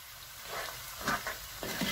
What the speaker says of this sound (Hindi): अब मैं इसमें प्याज डाल रही हूँ।